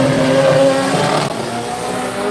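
A purple Mazda RX-7 launching at a drag racing event, its rotary engine screaming loud and sustained as it pulls away, with a slight drop midway before climbing again.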